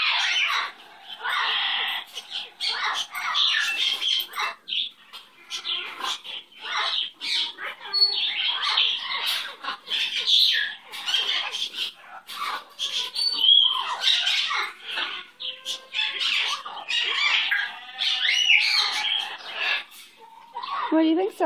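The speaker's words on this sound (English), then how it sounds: "What an amazing bird you are." A pet bird named Sasquatch squawks and chatters in near-constant bursts of harsh, scratchy calls, close and loud, with a person's voice mixed in among them.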